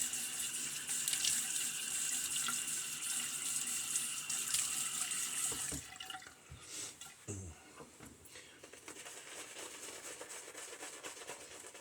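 Water runs from a tap into a sink in a bathroom shave setup, a steady broadband rush that holds for several seconds, then cuts off, followed by quieter handling sounds and scattered knocks.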